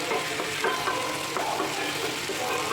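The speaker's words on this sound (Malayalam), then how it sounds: "തക്കാളിയും സവോളയും പച്ചമുളകൊക്കെ എണ്ണ കിടന്നൊന്ന് വെന്ത് കിട്ടും" Tomato, onion and green chillies cooking in hot oil in a pan for an egg curry, giving a steady close sizzle and frying hiss with faint stirring scrapes, no voices.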